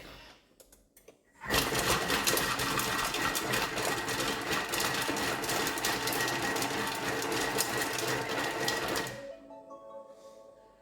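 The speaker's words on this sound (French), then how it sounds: "On va mixer 7 secondes." A food processor blending two garlic cloves at speed 4 starts abruptly and roars steadily for about seven seconds, then stops. Quiet handling noises come before and after.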